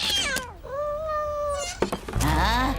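A cat gives a long, drawn-out meow, clear and close, followed by a shorter whining cry, with a voice speaking around it.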